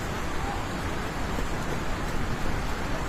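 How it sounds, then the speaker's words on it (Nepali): Floodwater from a swollen river in Nepal roars steadily in a dense, unbroken wash of rushing noise that fills the whole clip without letting up. "खोला हेर्नु गाइज खोला"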